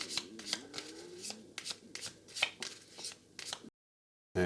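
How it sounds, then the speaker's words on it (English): A deck of cards for a Battle of Britain board game gets shuffled by hand, a quick series of riffling flutters and soft slaps, close and quiet, ending in a brief silence. "So we give those a shuffle."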